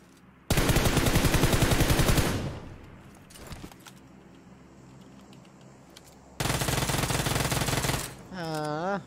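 Automatic gunfire in the PUBG Mobile battle royale game, two loud sustained bursts of rapid shots separated by a quieter gap, with a short rising electronic tone at the end.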